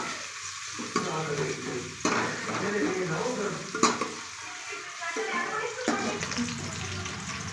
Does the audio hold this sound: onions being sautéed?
yes